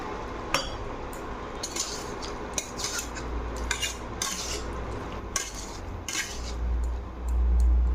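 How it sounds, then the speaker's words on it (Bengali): A utensil scrapes and clinks against a cooking pot as soya chunks are mixed in with ridge gourd and potato, making repeated short metallic strokes with soft rubbing between them. "সয়াবড়িটা একটু মিক্স করে দেবো।"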